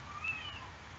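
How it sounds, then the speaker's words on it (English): A cat meows faintly in the background, a few brief high calls rising over a steady low room hum, with no one talking. "apologies if you can hear a cat in the background, but there appears to be one making a few noises."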